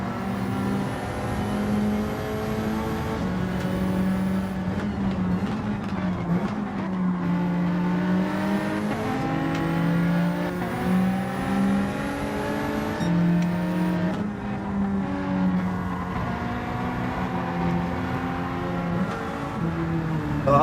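A light Nissan Silvia race car in Gran Turismo 7 roars throughout, its engine note climbing and dropping with repeated shifts and braking. The car is close and loud, with no voices present.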